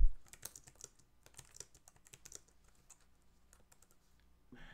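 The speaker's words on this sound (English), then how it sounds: "So as you can see, I can type in some text here. I can backspace" Typing on a computer keyboard during a software demo, a quick burst of crisp key clicks near the start, then sparser taps and a few backspace presses, close and fairly quiet with no voice over it.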